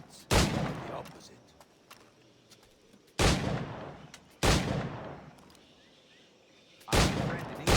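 Heavy firearm shots in Assassin's Creed IV: Black Flag, four loud booming blasts spaced a couple of seconds apart, each with a long decaying tail, and no talk over them.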